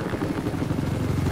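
An enemy helicopter in Battlefield 4's Golmud Railway map, its rotor a loud, close, pulsing low thrum sustained through a brief moment.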